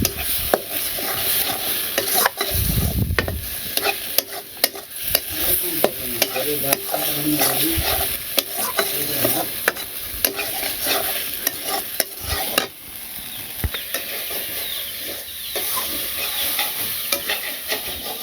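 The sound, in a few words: potatoes frying and being stirred with cumin and garam masala paste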